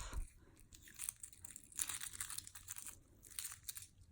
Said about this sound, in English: you just kind of go in and then peel the shell off